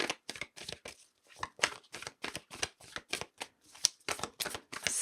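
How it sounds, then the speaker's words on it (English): Tarot cards being shuffled close up in a quiet room, a quick run of crisp riffling bursts with brief pauses between them. "Shuffle one more time."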